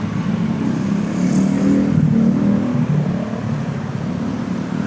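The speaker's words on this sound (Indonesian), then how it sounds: "Oh, ada truk mau lewat lagi." Heavy vehicle, a truck, rumbling past on a roadside by a street food stall, a loud low engine drone that swells to a peak midway and then eases off, with no talking.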